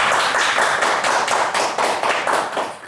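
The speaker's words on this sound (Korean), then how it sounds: "그럼 박수로 연사를 먼저 맞이하도록 하겠습니다." Steady audience applause welcoming a speaker at a panel discussion, dense and continuous, many hands clapping together at close range for the full stretch with no talking.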